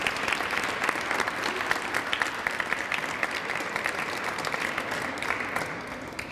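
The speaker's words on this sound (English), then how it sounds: "So can we give one more round of applause for Edna Bowers?" Audience applause at a State House flag dedication ceremony, a dense, steady round of clapping from a crowd that gradually tapers off toward the end.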